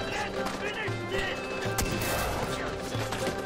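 Sniper and other gunfire in the video game Far Cry 4, sharp shots cracking amid continuous game noise and layered effects, with a player's voice talking over the action.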